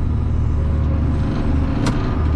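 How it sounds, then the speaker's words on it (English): A tractor engine holds a steady low rumble at about 1500 RPM while pulling a KUHN 9400NT no-till drill across tilled ground, a constant close drone with one short hiss partway through. "I've been running the tractor around 1500 RPM."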